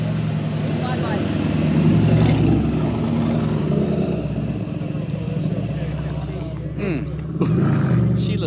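A Mercedes C63 engine revs loudly at an exotic car show, a steady deep roar that swells and eases, with people talking over it nearby.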